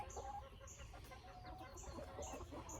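Backyard chickens cluck softly near their feeder in a garden, faint scattered clucks and chirps over low ambient noise.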